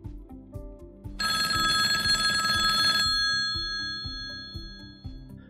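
Office telephone ringing, a bright electronic ring bursting in for about two seconds over a soft rhythmic musical backing, then fading into the backing, with no voices.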